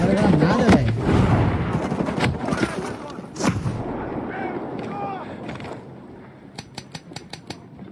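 Shots crack in a sniper video game: a few heavy booms early on amid excited talk, then a quick burst of sharp, rapid clicks near the end.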